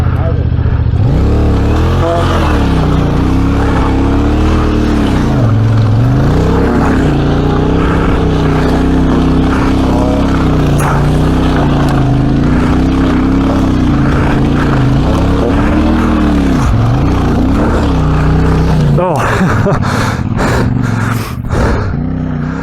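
A Royal Enfield Himalayan motorcycle rides along an off-road track, its engine droning loudly and steadily and rising and falling with the throttle, while voices talk over it and a brief run of sharp knocks comes near the end.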